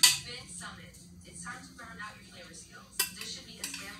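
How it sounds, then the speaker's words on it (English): Food is stirred in a pot fresh from a warm oven: a few faint utensil clinks and scrapes against the pot, with someone talking over them. "So I gave them a nice little stir."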